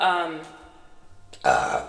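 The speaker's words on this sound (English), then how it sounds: "confirmation burp" A single close burp comes right after a voice fades out. It is short, throaty and fairly loud.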